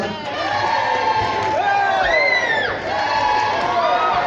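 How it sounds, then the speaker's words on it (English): Audience at a Butlins Minehead ventriloquist show breaks into a practice round of applause with cheering and whoops, a dense crowd roar sustained throughout with excited voices rising above it. "Give me a practice round of applause, please. Applause with cheering."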